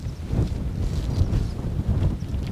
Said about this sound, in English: the wind is picking up now.